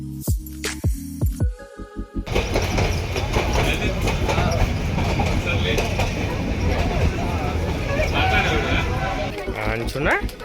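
The Nilgiri toy train between Ooty and Coonoor rolls along with a continuous rumbling clatter of wheels and carriages, while passengers chat nearby throughout.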